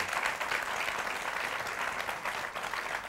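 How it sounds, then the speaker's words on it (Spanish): A studio audience at a live Peruvian talk show applauds steadily, a dense, even wash of clapping held at a constant moderate level with no talk over it. "un aplauso, felicitaciones"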